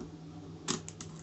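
A Nikon FM 35mm film SLR has its shutter cocked by hand, giving a quick cluster of small mechanical clicks and a ratcheting snap, close and quiet over a low steady hum.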